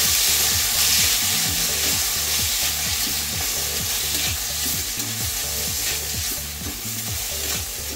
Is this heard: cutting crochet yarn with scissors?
no